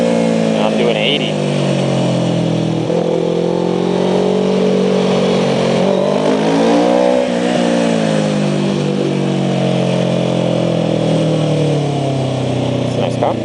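A car accelerating on a road, its engine a loud continuous drone heard from inside, rising and falling in pitch as it pulls and shifts.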